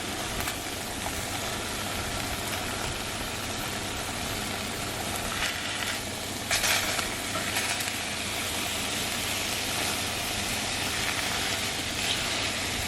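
Chicken pieces browning in a hot pan, a steady, dense sizzle and crackle that holds close and even throughout, with a low hum underneath and no talk.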